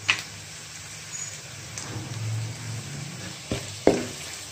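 Sliced onions sizzle and fry in a pan while being browned for a lentil curry, a steady crackling hiss with a few sharp clinks and scrapes of stirring, close and without talk.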